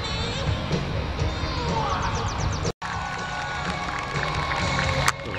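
A crowd cheers at the start of a half-marathon on an outdoor morning course, with a steady wash of shouts and applause and children's voices mixed in.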